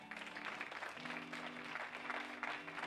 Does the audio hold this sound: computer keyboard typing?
no